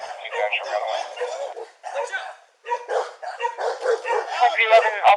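A pit bull barks repeatedly during a confrontation with a police officer, sharp yelping barks arriving in quick bursts with a brief pause. The barking is mixed with excited shouting voices.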